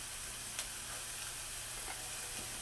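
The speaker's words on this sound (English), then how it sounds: "We're going to cook the onion down a little bit, and then I'm going to add in some garlic as well." Onion and garlic fry in a pan with a soft, even, continuous sizzle, fairly faint and close, with an occasional light tick of stirring.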